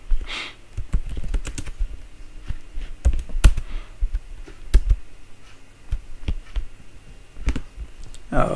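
Keys clatter on a computer keyboard as Java code is typed, an uneven run of close clicks and taps with short pauses.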